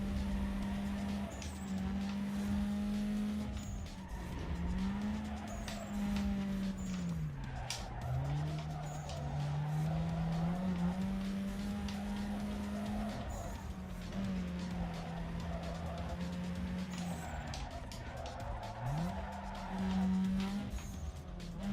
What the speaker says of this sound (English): that drift was probably not necessary.